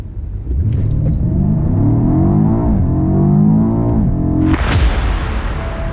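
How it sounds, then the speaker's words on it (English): A BMW M5 F90 accelerates hard from a standstill to 100 km/h without launch control, its engine note climbing steadily through the gears in loud, close rising sweeps with a brief dip at each shift before a sharp blast at the end. "have a look at this non-edited footage of a 0 to 100 km per hour acceleration"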